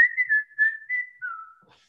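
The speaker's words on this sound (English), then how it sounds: "I just started whistling that" A single person whistles a short, smooth melody, the tune gliding between a few sustained notes before trailing off.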